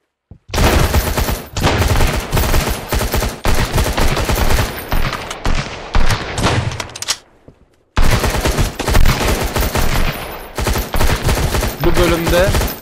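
AK-47 fire in the survival game Sunkenland: long, loud automatic bursts of rapid, dense shots that keep going almost without a break, with one short pause before the firing resumes.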